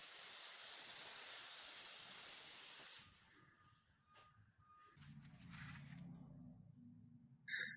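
Spray gun applies PPG 1968 Mopar Red paint to a 1968 Dodge Charger R/T: a close, bright, steady hiss for three seconds cuts off abruptly, followed by quiet shop noise, a low hum and faint clicks.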